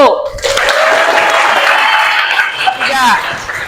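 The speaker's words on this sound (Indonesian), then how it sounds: "Kita berikan tepuk tangan buat kelompok 1." Students in a classroom applaud a presenting group, a dense burst of clapping that holds steady for several seconds with some voices and light laughter mixed in.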